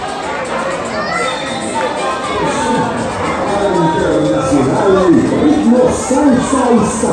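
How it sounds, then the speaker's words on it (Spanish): Loud crowd noise with cheering and shouting, children's voices among it, greets a salsa dance troupe at a carnival event in Veracruz, a dense, steady roar that swells slightly toward the end. "fuerte el aplauso para ellos"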